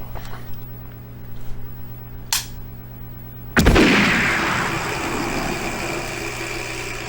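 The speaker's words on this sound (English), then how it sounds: "I use my electronic shooting gallery to help me decide." A vintage Radio Shack electronic shooting gallery toy sounds off with a couple of short electronic blips, then a loud zapping blast that trails into a sustained buzzing hum, close up with no talk.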